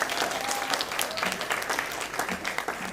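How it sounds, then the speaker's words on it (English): A steady, fairly loud wave of audience applause fills the hall after a Bharatanatyam arangetram dance performance, with dense overlapping claps that hold evenly throughout and no speech. "Can we have another round of applause for their electrifying performance?"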